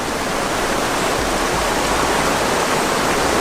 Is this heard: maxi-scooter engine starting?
no